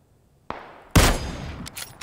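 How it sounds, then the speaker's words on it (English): Gunfire in PUBG during duos play: a light click, then one loud, sharp shot that rings out and decays, followed by a few faint clicks. No one speaks. "I'm going to have to shoot him."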